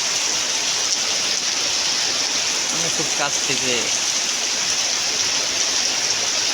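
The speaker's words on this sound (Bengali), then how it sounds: "টিনের উপরে বৃষ্টিটা পড়ে, অনেক সুন্দর লাগছে শব্দগুলো শুনতে।" Heavy rain pours steadily onto a tin roof, a dense, loud, unbroken hiss and patter close by, with someone speaking briefly over it.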